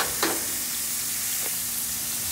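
A ribeye steak sizzles in a hot frying pan, a steady bright crackling hiss with a couple of brief spits, close and continuous with no voices.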